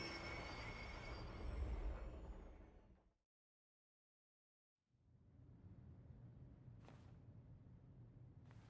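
Runaway train in the video game Persona 3 Reload: a loud, dense rumble of rolling wheels and rail noise with high squeal, cutting to total silence midway, then resuming at a steadier roar with brief sharp bursts.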